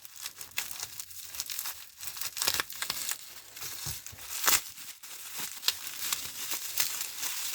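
Packaging is crinkled, torn and crushed while unwrapping the keys of a large antique padlock: dense, irregular crackling and rustling with sharp bursts, up close and without talk.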